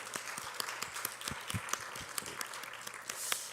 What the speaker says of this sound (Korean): 환영의 박수 한번 보내주실까요?